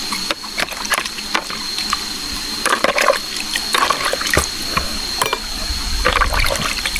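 Mixed mancozeb fungicide solution poured out while preparing to spray chilli plants in a garden: intermittent trickling and splashing liquid with scattered knocks and clunks of containers, close up, with no talk.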